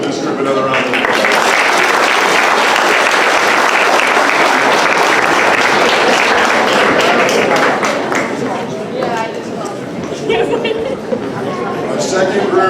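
Audience at a middle school 8th grade academic awards ceremony gives a loud round of applause that holds strong for several seconds, then thins out as voices and scattered claps take over near the end.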